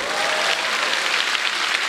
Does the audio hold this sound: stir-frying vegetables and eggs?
no